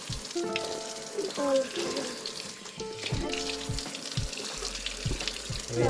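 Water running from a tap for drinking beside fields of corn, heard as close splashing and trickling mixed with scattered clatter and faint voices in the background.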